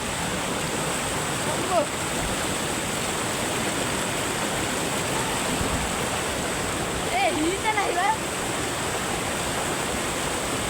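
A river rushes over rocks with a steady, loud, unbroken roar of flowing water throughout, and a voice speaks briefly over it.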